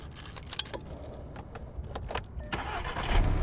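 A 2017 Volkswagen GTI being started, with keys jangling close by first, then the engine cranking and catching into a low rumble near the end, louder as it fires.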